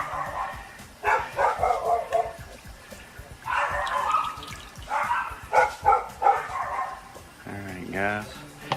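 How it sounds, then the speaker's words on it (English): Dogs bark in short bursts amid ongoing talk and kitchen sounds, with a higher yip or whine near the end. "love cooking with dogs barking."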